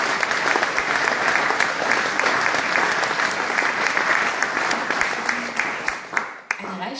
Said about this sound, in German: Ja, dann können wir mal klatschen.